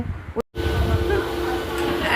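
Suburban train running toward Amta, a steady close rumble of the carriage filling the clip after a brief dropout near the start.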